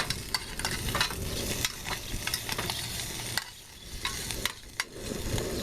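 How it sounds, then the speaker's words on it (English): Food browns in a canteen cup on a camp stove, a close, continuous sizzle with quick scraping stirs and occasional clinks against the metal cup; no voices. "Give them a quick stir."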